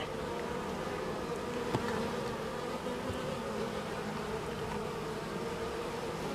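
A dense, steady buzzing of many honeybees at a strong hive before winter fills the air without a break, close by and continuous with no voices.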